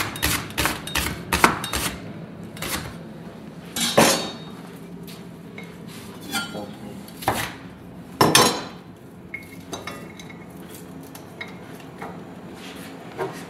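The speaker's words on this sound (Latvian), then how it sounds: "Tagad es sagriezīšu sīpolu." Sharp knife strikes on a cutting board as an onion is sliced, in quick bursts of close, percussive chops with pauses between, alone without talk.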